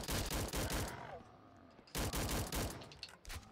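Bursts of gunfire from the Roblox zombie shooter Recoil Zombies, loud rapid volleys in two main clusters separated by a quieter pause, with a few trailing shots at the end.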